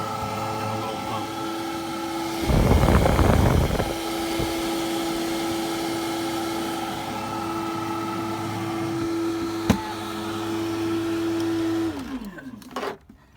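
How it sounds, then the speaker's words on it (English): A portable 12 volt air conditioner runs inside a teardrop trailer with a steady mechanical hum and a sustained tonal whine, briefly interrupted by a louder burst of noise, before the tone winds down near the end. "So that is the portable 12 volt air conditioner."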